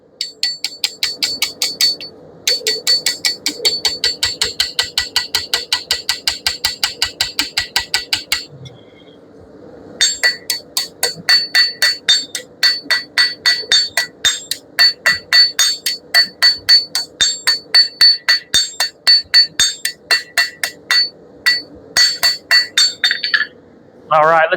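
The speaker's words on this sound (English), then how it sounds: "when I go to rivet that thing in on the other side, it sets in there real nice" A hammer setting a rivet in a decorative fire poker, long runs of fast, ringing metallic blows with a short pause partway, loud and close.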